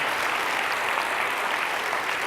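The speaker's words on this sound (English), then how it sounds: "that deserves a round of applause" Audience applause at an inspiring keynote talk, a steady dense wash of clapping that fills the whole stretch at even loudness, with no voices over it.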